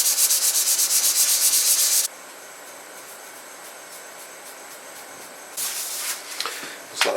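Wood being sanded on an old piece of furniture being restored, a loud, close, hissing rasp for about two seconds, then quiet room tone and a few shorter scraping strokes near the end.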